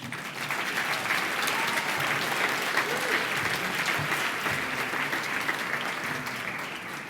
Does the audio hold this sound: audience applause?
yes